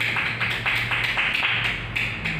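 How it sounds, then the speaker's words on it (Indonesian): An audience at a church gathering claps in applause, a steady run of quick hand claps lasting a couple of seconds, moderately loud and close. "tepuk tangan untuk kita semua"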